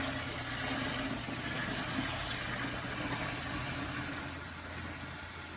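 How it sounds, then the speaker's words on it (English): Brewing wort pouring steadily into a container of cool water for a Cooper's Irish Stout homebrew, a continuous gushing splash with a low background hum, close by. "I'm just adding the wort to the cool water."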